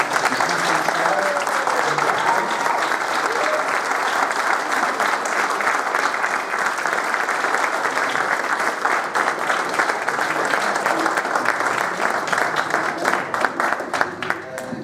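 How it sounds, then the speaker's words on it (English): Sustained audience applause fills a convention stage as a crowd welcomes actors on at an event, dense, steady clapping all the way through with scattered louder claps. "So if you'd like to give a round of applause, please."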